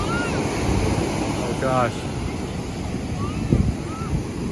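Pacific Ocean surf on the San Francisco shore rolls and hisses steadily under gusty wind buffeting the microphone, while a person briefly exclaims over the noise.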